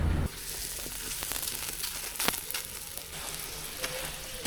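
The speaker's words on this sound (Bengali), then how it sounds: "আলু পরোটা এখন ভেজে নেবো" Steady sizzling of an aloo paratha frying in a hot pan, continuous crackle with occasional sharper pops, close up and with no voices.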